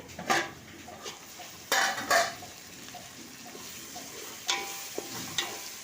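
Masala and medium tomatoes fry in a pan for a country chicken curry, a soft low sizzle broken by several sharp clanks and scrapes of a spoon stirring against the pot, with no talking.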